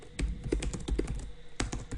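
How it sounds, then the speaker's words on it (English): Rapid, close keystrokes clatter on a computer keyboard while a reply is typed in an Emacs mail client, an uneven run of crisp taps with a brief pause near the end. "I can just start typing out a reply."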